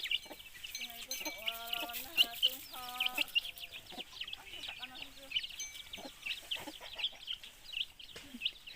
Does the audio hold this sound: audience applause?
no